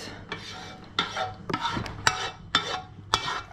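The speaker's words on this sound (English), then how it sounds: "Scratch every little piece out of the pot." Spoon scraping macaroni cheese out of a metal pot: about six sharp, rasping scrapes close up, each a quick metallic stroke followed by a softer smear, spaced roughly half a second apart with no talking.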